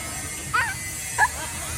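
A small child imitates a dog barking, giving two short, soft yips about half a second apart, faint against quiet room background.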